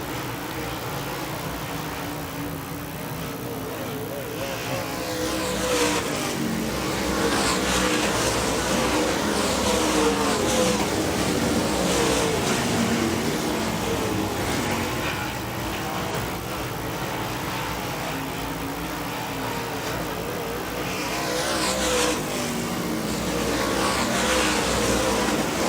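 Late model race cars roar steadily around Wagner Speedway, several engines layered into a loud, continuous drone that swells and fades as the pack passes, with no talk.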